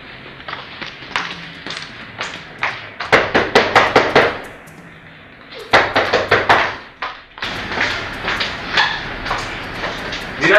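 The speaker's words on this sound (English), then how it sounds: "When you knock on someone's door," Knuckles rapping on a door in a Nigerian drama scene, several loud bursts of quick sharp knocks separated by short pauses, close and alone.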